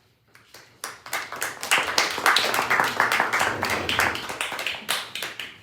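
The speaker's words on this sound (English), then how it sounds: "You don't have to clap after every poem" A poetry reading audience claps after a poem, starting with a few scattered hand claps and swelling into steady, fairly close applause that tapers off near the end, with no speech.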